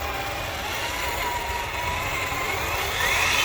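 Traxxas TRX4 Defender RC truck running at full throttle in first gear, a steady electric motor whine with a slowly rising pitch toward the end, continuous and fairly close, with no talking.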